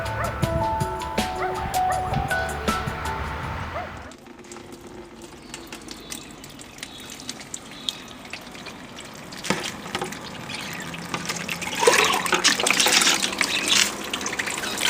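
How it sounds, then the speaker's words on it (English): Water is poured into a worm farm outdoors, making a continuous splashing gush that swells louder near the end, while a dog barks repeatedly in the background. "So I'm pouring this water in now,"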